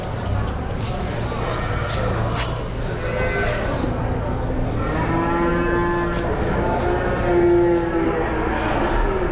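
Cattle low repeatedly at a bustling bull market in Vaniyambadi where native bull calves are sold; drawn-out moos rise over steady crowd chatter and people talking nearby.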